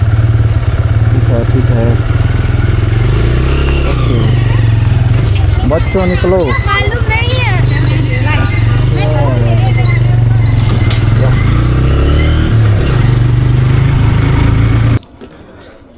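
A motorcycle engine runs steadily and close near a temple in Manali, a constant low rumble under ongoing conversation, cutting off abruptly near the end.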